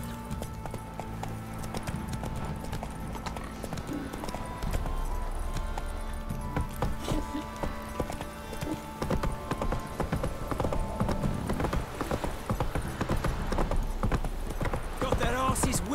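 Roach the horse in The Witcher 3 gallops with a quick, continuous run of hoof clip-clops amid game music and effects, with a voice speaking over it.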